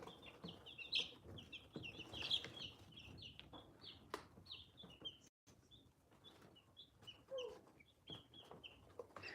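Buff Brahma chickens cluck and chirp softly in a coop, a quiet scatter of short, repeated calls and murmurs spread through the whole stretch, with a brief lull partway through.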